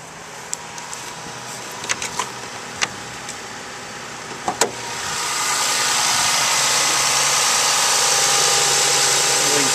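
A 2006 Toyota Sienna LE's 3.3 liter V6 idles with the hood up, a steady broadband hum that swells and holds after a few scattered clicks and knocks near the engine bay.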